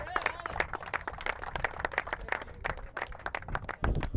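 A crowd applauds at a cricket grand final ceremony as a co-sponsor is called to the stage. The clapping is dense and uneven, with voices mixed in.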